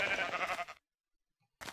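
A sheep in the video game Minecraft gives a loud, close bleat, followed by a short silence and the start of a second bleat.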